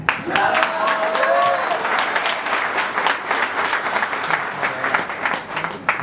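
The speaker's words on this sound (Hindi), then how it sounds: "मुझे केवल ताली वाली आवाज ही पहचान में आती है।" A seated audience at a live company speech in Ahmedabad claps steadily, a full and sustained round of applause that briefly overlaps a voice at the start.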